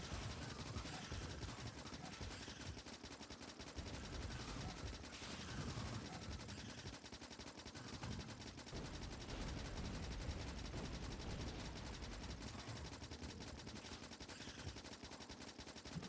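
Guns fire on enemy nests in Factorio, a dense, rapid machine-gun rattle that runs continuously and loudly for the whole stretch with little pause.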